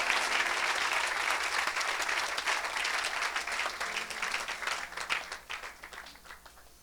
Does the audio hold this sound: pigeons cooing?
no